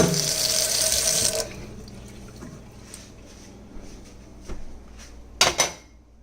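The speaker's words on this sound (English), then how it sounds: "we gotta put some water in the pan because I'm trying to get away from using oil" Tap water pours steadily into a pan in a home kitchen for about a second and a half, then stops, leaving faint clatter and a few sharp clicks and knocks near the end.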